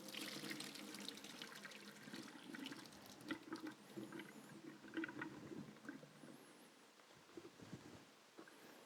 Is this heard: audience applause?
no